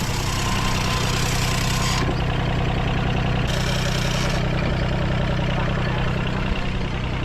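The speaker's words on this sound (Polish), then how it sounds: "Tak się tutaj odpala" Boat engine in Cambodia starting up and then running steadily, a loud continuous mechanical drone with a low throbbing hum and brief shifts in tone as it settles into a constant run.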